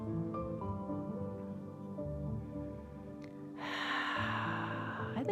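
During a yoga class, one long, deep breath rushes in breathily near the end, over soft sustained background music.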